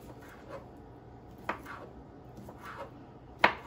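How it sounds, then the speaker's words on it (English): A knife cuts sausages on a board, making soft thuds and a few sharper taps, with the crispest cut near the end. Faint background noise sits underneath. "now I'm going to cut them up"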